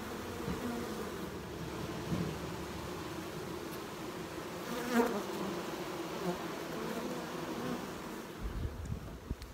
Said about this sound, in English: so they're fanning to cool down the hive